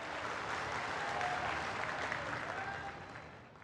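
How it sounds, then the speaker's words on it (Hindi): An audience at a large political rally in Madhya Pradesh applauds to welcome the Prime Minister, a dense, steady wash of clapping that holds for several seconds and then begins to fade. "एक बार जोरदार ताली बजाकर माननीय प्रधानमंत्री जी का स्वागत करें।"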